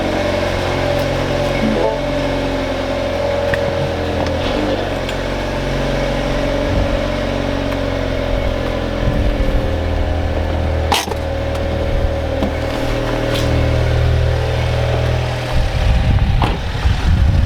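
A Mini Cooper F56 with a newly installed larger Forge intercooler idles steadily after starting, a continuous mid-pitched engine hum with a few light revs and clunks, heard close and loud throughout with no talking.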